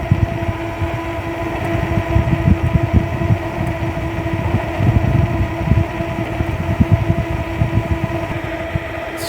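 QLife Spark moped cruising at about 30, a close, steady motor whine over fluttering wind buffeting and road rumble, continuous with no speech.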